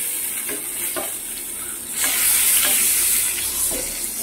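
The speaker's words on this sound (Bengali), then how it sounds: "কোন পটল ভাজা হচ্ছে" Pointed gourd slices fry in a pan with a steady close sizzle and occasional stirring scrapes, growing louder and brighter partway through, with no voices.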